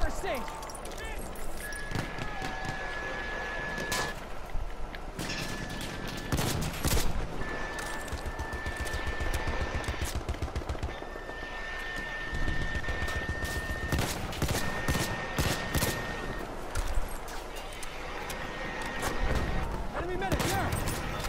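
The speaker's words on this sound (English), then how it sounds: "Enemy machine gun." Enemy machine gun fire during a Zeebrugge Shock Operations battle in a video game, with rapid bursts and scattered gunfire in dense combat noise while players talk over it.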